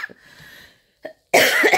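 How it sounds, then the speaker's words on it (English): A loud, harsh cough bursts out close up after a brief quieter cough and a moment of near silence. "even if I'm coughing like this"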